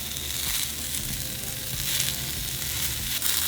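Nopales sizzle steadily in a hot cast iron skillet over medium-high heat, seasoned with salt. The crackle is close and continuous, and nobody speaks.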